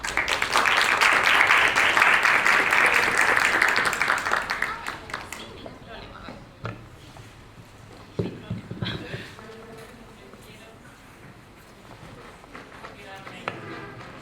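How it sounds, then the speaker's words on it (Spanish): Audience applause for a panel speaker at a seminar in Concepción, a dense burst of clapping lasting about five seconds that then dies away, followed by someone speaking with scattered room noise. "Un aplauso, por favor."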